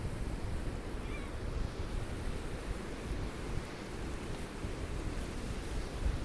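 Waves washing onto a beach under steady wind, a continuous low rushing surf that stays fairly faint and even throughout, with no voices.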